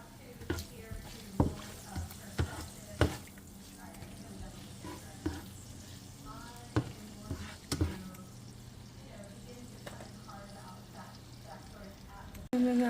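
Onion sautéing in a pan for kare-kare, a soft sizzle under repeated sharp utensil clicks and stirring knocks, with a loud clunk at the very end.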